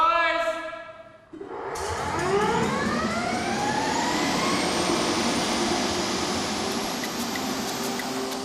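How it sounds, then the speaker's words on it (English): F/A-18 fighter jet engines spool up at an air force base, a rising whine sweeping upward into a loud, sustained roar close by. "With the all clear, it's time to fire up the engines."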